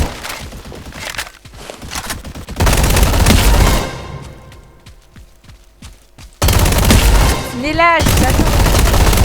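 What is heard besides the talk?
gunfire in a Roblox combat arena video game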